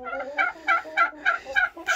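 Turkeys gobbling on a poultry farm: a rapid series of about six loud, close, rattling gobbles in quick rhythm, with no talking over them.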